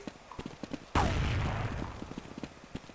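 A single loud shot from a one-hit sniper-style rifle in Counter-Strike 1.6, a sharp crack followed by a decaying rumble, set among quieter footsteps and clicks.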